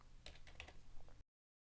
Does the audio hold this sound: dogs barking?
no